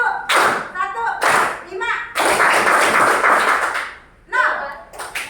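A classroom group claps together in short counted bursts, three sharp clusters separated by brief pauses, while a teacher's voice speaks between and over the claps.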